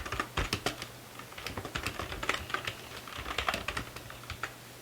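Computer keyboard being typed on while writing C++ code, a fast, continuous run of crisp keystrokes close to the microphone over a low steady hum.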